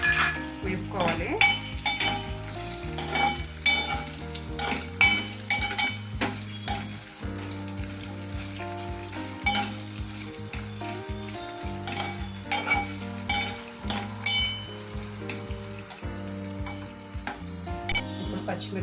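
Ginger sizzles and crackles steadily in hot oil while being stirred for tamarind rice, with occasional scrapes of the spoon against the pan and a soft musical backing underneath throughout.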